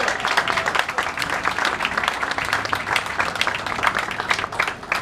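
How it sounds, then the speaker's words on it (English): An audience at the Philly Music Walk of Fame ceremony applauds, with dense, sustained clapping from many hands throughout. "let's give them a real big round of applause"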